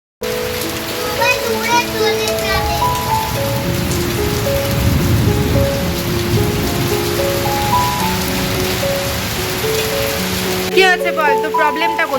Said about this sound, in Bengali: ভীষণ জোরে মেঘ ডাকছে আওয়াজ হয়তো তোমরা শুনতে পাচ্ছ